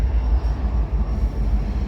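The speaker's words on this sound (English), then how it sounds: "I'm on a mid DPU on a really long coal train" A really long coal train rolls into Littleton outside Denver on a dreary day, heard from a mid-train DPU locomotive: a steady, close, heavy low rumble and rolling rail noise that never lets up.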